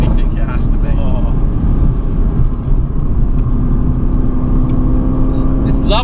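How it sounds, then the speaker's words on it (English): A Mercedes-AMG GTC Roadster engine revs with a continuous, loud roar, and sharp exhaust pops and crackles burst out on the overrun while people talk over it. "The pops and bangs on the overrun is beautiful"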